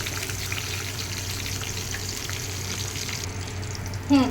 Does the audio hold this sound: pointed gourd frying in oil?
yes